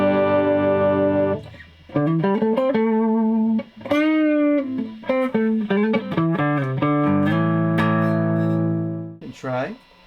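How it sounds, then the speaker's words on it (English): Harley Benton SC-Special electric guitar played through a compressor pedal, a held chord followed by a string of evenly levelled, bending single-note phrases, loud and close, with no talk over it. "If we turn on a compressor,"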